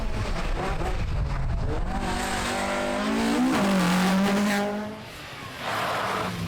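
Toyota Corolla rally car launching hard on a tarmac stage in West Cork, engine note rising loud and close through the gears with a tyre squeal, then easing and fading slightly near the end.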